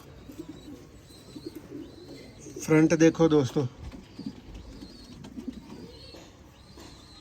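Breeder pigeons coo in a loud, rolling burst near the middle, with softer coos scattered before and after, while someone speaks over parts of it.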